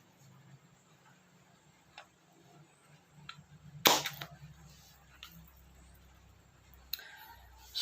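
A single sharp gunshot fired at a target cracks out over a quiet background, followed by a fainter, smaller report a few seconds later.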